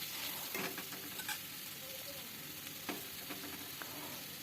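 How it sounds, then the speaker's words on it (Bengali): Taro stolons (kochur lati) fry in oil for a korma, giving a steady sizzle under occasional stirring scrapes in a pan, heard close with no talking. "আমি এটাকে ভালো করে এখন ভেজে নেব কিন্তু কচুর লতিটাকে"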